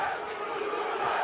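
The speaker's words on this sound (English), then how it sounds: "The chant of Uruguay from this sold-out Hard Rock Live crowd in South Florida in favor of the Uruguayan Gastón Reyno" Sold-out arena crowd at Hard Rock Live in South Florida chanting "Uruguay" for Uruguayan bare-knuckle fighter Gastón Reyno, a steady dense roar of many voices filling the room without a break.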